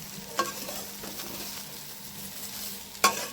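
Okra cooking in a pan gives a steady low sizzle, with two sharp clinks of a utensil stirring against the pan near the start and end. No one speaks.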